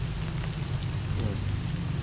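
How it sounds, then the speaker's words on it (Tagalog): Light rain falls outdoors as a steady, even hiss of drops that holds for the whole moment, with no voices. "Medyo umuulan na sa pwesto natin mga kaibigan"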